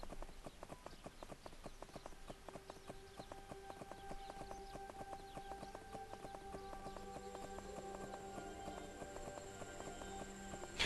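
Rhythmic clip-clop of a horse's hooves at a brisk pace in the Unicorn Princess video game on Switch, steady and even over a soft tonal game music backdrop.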